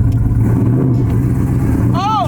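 An LS1-powered Chevrolet Silverado truck with a T56 manual gearbox pulls away from a stop, its engine a loud, close low drone rising slightly, with a voice briefly cutting in near the end.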